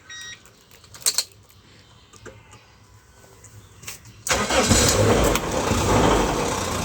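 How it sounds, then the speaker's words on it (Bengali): A Toyota Noah KR42 GL engine cranks and starts after faint clicks and key jangles, then settles into a steady, fairly loud idle. "ইঞ্জিনটি স্টার্ট করে দেখাই।"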